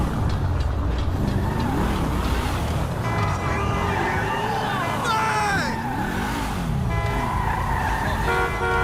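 A car drives hard with its tires skidding and squealing, loud and continuous throughout, while voices shout over the engine and tire noise.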